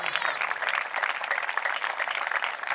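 A church congregation claps together during a worship service, a dense steady patter of many hands that stays loud and continuous throughout, with no voices standing out.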